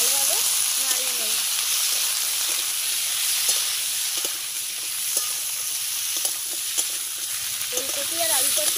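Kohlrabi and potato sizzle continuously in a frying pan while a spatula stirs them, with scattered scraping clicks and light knocks over the hiss.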